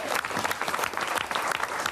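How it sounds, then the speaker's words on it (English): An audience at a lively city social event claps with busy, continuous applause, a thick crackle of many hands that holds steady and fills the room for a couple of seconds. "Fair round of applause for Frank there, ladies and gents."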